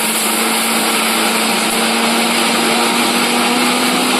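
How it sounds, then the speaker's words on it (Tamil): A steady, high-pitched motor whine from a mixer grinder grinding garlic for rasam runs without a break, loud and close, with no talking. "பாருங்க, இதை ஃபஸ்ட்டு அரைச்சிக்கணும்"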